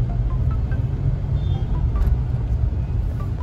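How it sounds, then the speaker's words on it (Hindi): Sunday road traffic in Delhi, heard from inside a Hyundai Creta: a deep, steady cabin rumble of engine and tyres, with faint surrounding vehicles. "ये देखो सामने ट्रैफिक ही ट्रैफिक।"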